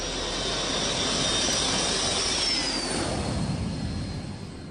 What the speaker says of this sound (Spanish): un pequeño avión privado despega de una pista improvisada en la densa jungla del norte de Guatemala